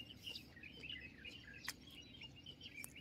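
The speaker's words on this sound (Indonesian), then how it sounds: "kayak suara burung" Birds chirp and tweet intermittently in the distance by rice paddies, faint high calls over a quiet background.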